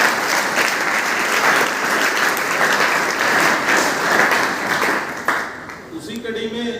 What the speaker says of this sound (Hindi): उनका जोरदार तालियों के साथ एक